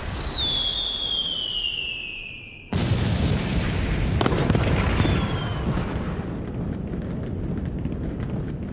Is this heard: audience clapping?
no